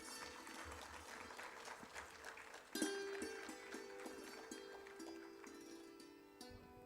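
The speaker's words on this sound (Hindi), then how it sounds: "आप सभी जोरदार तालियों से स्वागत कीजिए।" An audience at a government annual plan launch applauds to welcome a minister, the clapping faint and scattered in a quiet hall, followed by a sustained tone.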